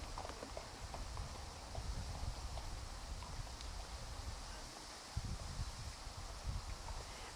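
A Foxtrotter mare's hooves clip-clop at a steady walking rhythm outdoors, faint and somewhat distant, mixed with wind and rustling leaves.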